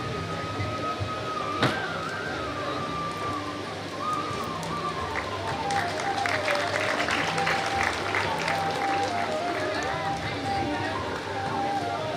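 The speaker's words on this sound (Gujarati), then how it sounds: "જોરદાર તાળીઓથી વધાવીએ." A crowd at a community student award ceremony in Gujarat claps for a long, dense stretch of steady applause that swells midway, with faint background tones underneath.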